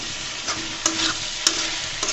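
Eggplant and onion fried in oil in a pan are stirred, a steady sizzle broken by a few sharp scrapes of the spatula, close and fairly loud with no voices.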